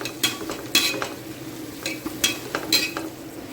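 Onions with chilli powder being stirred and sautéed in a pan for chicken dum biryani: soft steady sizzle broken by several sharp scraping stirs of a spoon.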